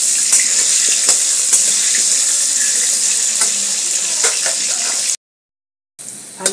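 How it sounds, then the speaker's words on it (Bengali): Potato pieces fry in hot oil in a pan for a Bengali khichuri, giving a steady, close sizzle with small pops and crackles that continues for about five seconds, breaks into a brief silence, then resumes. "আলুটা ভেজে দিয়ে পটলটাকে ভাজবো বন্ধুরা।"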